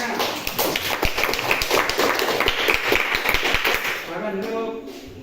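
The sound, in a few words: audience applause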